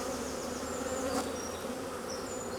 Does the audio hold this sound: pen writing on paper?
no